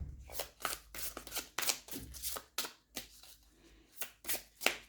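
Oracle cards are shuffled, drawn and laid down in a series of soft, close slaps and papery swishes, spaced irregularly over a few seconds, without speech.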